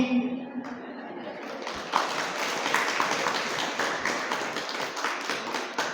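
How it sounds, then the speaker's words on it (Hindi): A large audience at a Jain religious discourse claps steadily and loudly for several seconds, a dense sustained patter of many hands, with no voices on top. "बजाओ जोरदार ताली"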